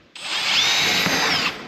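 A Milwaukee M12 cordless drill whirs at high speed for just over a second while assembling a helicopter kit, starting abruptly and holding a steady, close, buzzing whine before cutting off.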